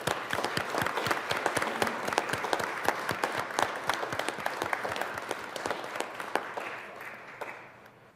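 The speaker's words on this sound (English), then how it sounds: "Can we please have a round of applause for our guests?" Guests in the Colorado Senate chamber receive a round of applause, with sharp, dense handclaps ringing out steadily for several seconds before tapering off and fading near the end.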